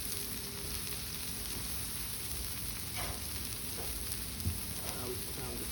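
Potatoes and sweet potatoes sizzle steadily on a hot griddle as they are flipped, a continuous close frying hiss with a few faint scraping clicks from the turner.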